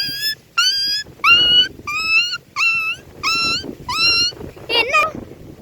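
A dog whimpers and whines in a series of about seven high, drawn-out cries with short pauses between, loud and close, ending in a rougher yelp.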